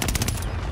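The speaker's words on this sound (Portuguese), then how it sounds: "Tô tomando tiro!" Rapid automatic gunfire from Call of Duty: Modern Warfare, loud and close, with a brief sustained burst of crackling shots.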